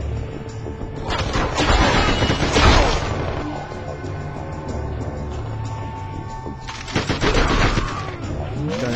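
Bursts of AK-47 gunfire ring out in the action game SpyHunter: Nowhere to Run, with a dense volley around the first three seconds, a lull of lower rumble, then another loud burst near the end.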